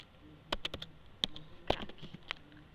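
A few sparse, faint keystrokes on a computer keyboard while a folder name is typed, with short irregular clicks separated by quiet gaps.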